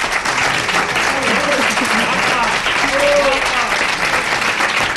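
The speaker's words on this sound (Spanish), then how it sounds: "Fuerte aplauso para la directora." A studio audience at a radio station's programme presentation applauds the station director, a loud, sustained burst of clapping with a voice briefly audible over it.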